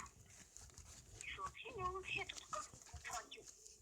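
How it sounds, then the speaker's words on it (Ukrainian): Squawking, clucking chicken calls from Minecraft play over faint background noise, with people talking throughout. "чому мені тільки що почулося, що курка запищала?"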